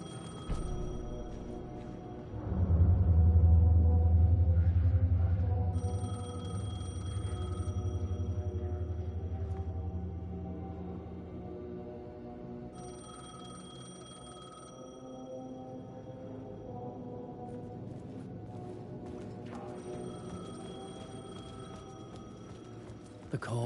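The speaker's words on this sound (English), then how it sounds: "Phone was ringing." Telephone ringing in the video game Alan Wake 2, repeated electronic rings sounding over a low droning ambient rumble.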